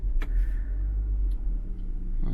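A Land Rover Defender L663 starts up with a sharp click, then settles into a low, steady engine rumble heard from close by inside the car.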